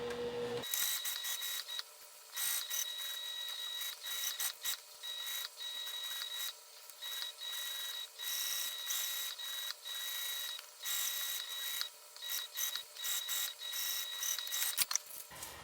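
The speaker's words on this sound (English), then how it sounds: "I will then turn the bag and we will just sew up the bottom in the lining." A sewing machine stitches up the bottom of a hip bag's lining in bursts, a fast mechanical whir with a steady high whine that starts and stops several times, close and quiet.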